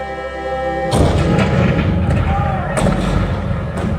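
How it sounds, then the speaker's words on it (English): Cannon fire booms in a Disneyland show on Main Street, one sharp loud blast near the start followed by rolling, reverberant rumbles and further thuds, preceded by a sustained musical tone. "The cannons spoke for war."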